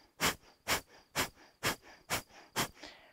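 Forceful Kapalabhati breathing, seven sharp, evenly spaced nasal exhalations about half a second apart, close and fairly quiet, with soft passive inhales between them and no talking.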